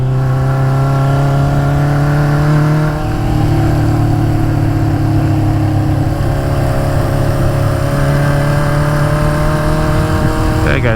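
A 1976 Honda CB550F motorcycle engine runs steadily and loud while riding on back roads, with a pitch drop around three seconds as the rider downshifts, then a sustained drone that rises again toward the end.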